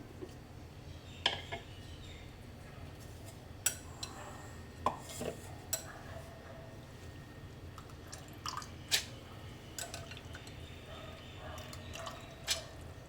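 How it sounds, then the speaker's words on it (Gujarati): Soaked urad dal is scooped into a mixer jar, giving quiet, scattered wet plops and a few sharp clinks against the jar over a low steady background, with no talking. "હવે આપણે એને મિક્સર જારમાં લઈ લઈશું।"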